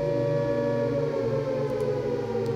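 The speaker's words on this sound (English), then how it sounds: "you have the sirens that are automatic, controlled by the minutes of the timer" A steady electronic siren tone generated in Max-MSP software holds continuously, layered with sustained harmonic drones, loud and unbroken with no voices.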